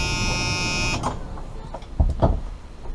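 Reversing buzzer on a short UK skoolie bus, a steady electronic tone droning loudly for about a second before being switched off, leaving quieter cab noise and a couple of soft knocks.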